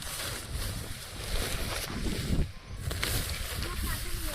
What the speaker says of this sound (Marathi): वारा खूप सुटला बरं का.